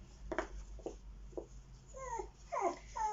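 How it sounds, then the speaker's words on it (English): Lily, a small dog, whines in a short run of high, wavering whimpers that rise and fall, near and fairly soft, with a few low bumps and knocks before them. "My little dog's decided to have whinge"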